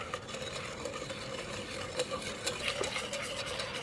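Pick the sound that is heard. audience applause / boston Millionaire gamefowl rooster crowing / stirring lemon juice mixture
stirring lemon juice mixture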